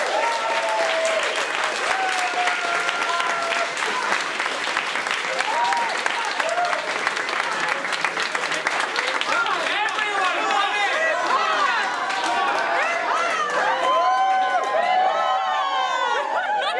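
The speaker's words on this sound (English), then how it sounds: "I think you should all give yourselves a big round of applause" Steady applause from an audience of competition participants fills the whole stretch, a dense continuous clatter of many hands with some crowd chatter and voices mixed in.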